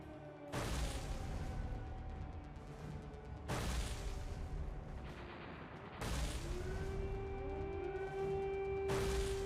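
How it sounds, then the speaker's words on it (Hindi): A wailing air raid warning siren in Ukraine rises and falls over several seconds, cut through at intervals by loud, sharp bursts like distant blasts. "यूक्रेन में खतरे का सायरन गूंजने लगा।"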